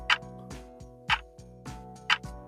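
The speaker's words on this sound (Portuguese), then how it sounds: "Tic-tac, tic-tac." A mechanical clock ticks steadily in a quiet room, with sharp, loud ticks about once per second and a faint low hum underneath.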